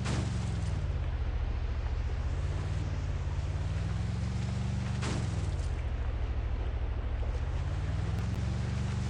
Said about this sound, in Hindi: गाड़ी पानी में भी चल रहा है यार